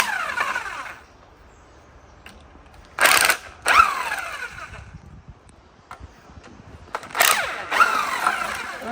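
Ratchet undoing engine sump bolts on a Mazda RX-5 project car, several short bursts of rapid clicking separated by quiet pauses, close and fairly loud.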